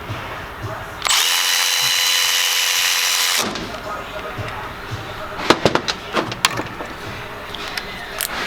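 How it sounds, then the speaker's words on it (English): A cordless 1/4-inch extended reach ratchet torques a fastener down at full power, giving a loud sustained whir for about two seconds before stopping, followed by sharp clanks and handling knocks. "now we're going to do the tightening test. We're going to torque it down at full power"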